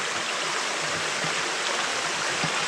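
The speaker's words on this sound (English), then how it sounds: "All of that water is coming from the mine." Water surging out of a collapsed mine beneath a mountain, feeding an underground creek, rushes in a steady, loud broadband roar like a stream or small waterfall, close by and continuous with no talk.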